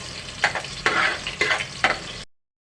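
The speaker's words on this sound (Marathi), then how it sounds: "तेल गरम झालेले आहे त्यात कांदा घाला आणि भाजा" Onion pieces frying in hot oil for a traditional Malvani chicken gravy, making bursts of sizzling that swell and fade in roughly four waves as the pan is stirred, close and fairly loud, with no talking.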